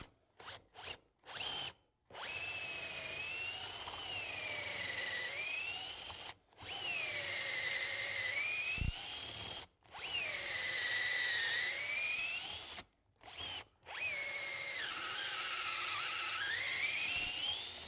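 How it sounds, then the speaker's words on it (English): A power drill whines in repeated bursts as pocket holes are drilled with a jig, its pitch rising and falling, separated by short pauses. "I'll go ahead and drill all the pockets with this jig"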